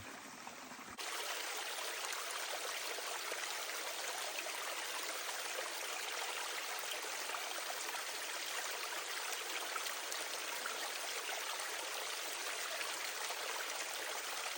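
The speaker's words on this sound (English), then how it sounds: "so that was the waterfall" Constant broadband rush of falling water, a waterfall heard fairly close, steady and unbroken for the whole stretch with no one speaking.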